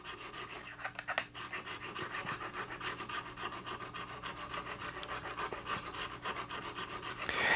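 A file is worked back and forth across stainless steel electric guitar frets to level them, making a close, continuous rhythmic rasp of quick even strokes with no talking.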